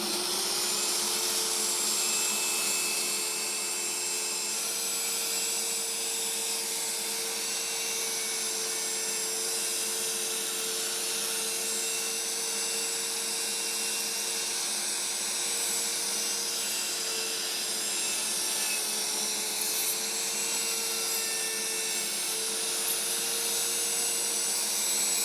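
A router cuts a mortise into wood for a bolt-on guitar neck joint, making a steady, loud, high-pitched whine that runs without a break for the whole stretch, with no talking over it.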